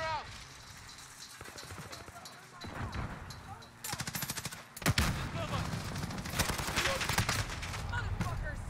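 Rapid automatic gunfire bursts and single shots in a first-person shooter video game with capture-and-defend objectives, crackling close and at a distance amid battle noise, with game character voices shouting over it.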